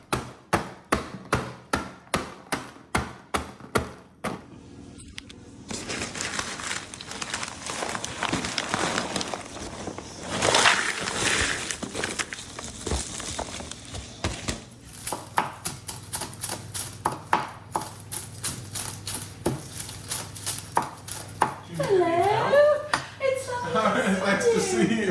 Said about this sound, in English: I'm gonna be using dried crisp rolls and a hammer of sorts, a mallet